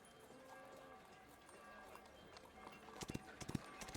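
Horse gallop sound effect in a tabletop role-playing session, faint background ambience broken near the end by a quick run of hoofbeats.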